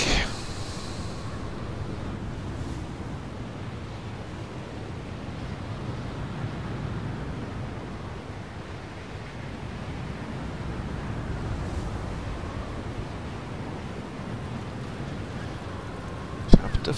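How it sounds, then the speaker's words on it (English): Wind blows steadily up on a mountain, a continuous broad rushing roar with slow swells in strength, heard alone without speech. "It's a bit windy up here."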